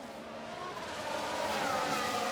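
Race cars in F1 Manager 2023 jostle during an overtake, a steady, close engine drone with a slight rising whine over a couple of seconds, no voices.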